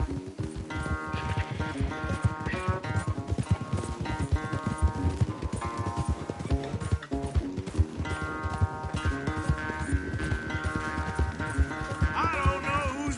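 Rapid rhythmic hoofbeats of a galloping horse under game music, steady and continuous throughout.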